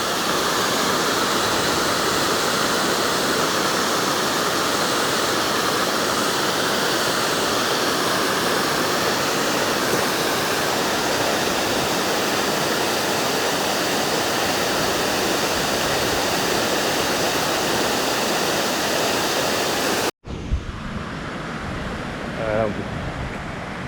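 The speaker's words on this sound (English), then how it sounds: "A waterfall where it rushes down to a lower level." Waterfall rushing down to a lower level at Weir Nature Center in Whitnall Park, a loud steady broadband roar that fills the scene for about twenty seconds, then cuts to a quieter, more distant rush of water.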